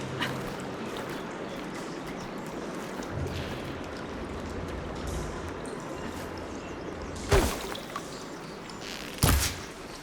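Water flowing through a switched channel in the video game Horizon Forbidden West, a steady broad rushing wash held throughout, with two brief louder splashing bursts near the end and no talk.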